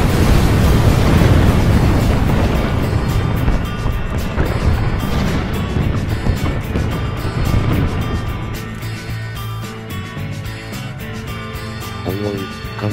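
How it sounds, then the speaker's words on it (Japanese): A heavy explosion in an animated space-war train story bursts loudly and rolls into a long, rumbling decay over several seconds, with voices faintly present. "かなり重い爆発音がしたぞ"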